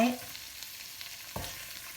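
Chicken being stir-fried in a pan for Thai pineapple curry, a faint sizzle with a brief scrape of stirring partway through, no talking.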